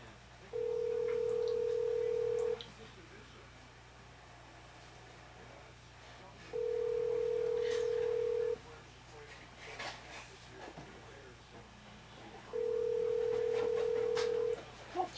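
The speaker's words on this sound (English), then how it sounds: "I hear a phone ringing." A telephone rings in three long, even bursts spaced evenly apart, fairly faint against a quiet room with soft background noise between rings.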